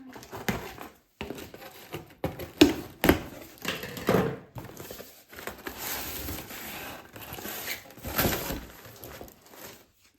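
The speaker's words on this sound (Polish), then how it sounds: "Tu jeszcze muszę nożyczkami." Scissors snip and tear through a parcel's packaging during an unboxing, giving a string of close, irregular crinkles, taps and sharp cutting bursts with brief pauses between them.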